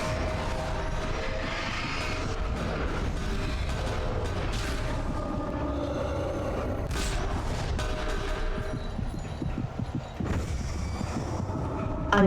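A train at a station in the Alan Wake video game gives a low rumbling roll, with scattered metallic clanks and swells over a continuous background.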